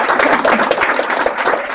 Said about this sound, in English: Can we give a round of applause to Ray?